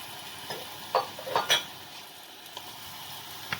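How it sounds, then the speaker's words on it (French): Onion and garlic sautéed in a pan are deglazed with white wine for veal Marengo, giving a soft steady sizzle with a few louder stirring scrapes and clinks near the start. "Donc là maintenant, je vais déglacer au vin blanc."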